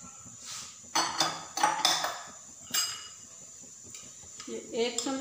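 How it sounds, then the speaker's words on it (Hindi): Chopped onions tipped into a pressure cooker on the stove with soaked black chickpeas, giving a few close metallic clinks and knocks against the pot, spread across a short span in a quiet kitchen. "अब ये प्याज डालने लगी हूँ।"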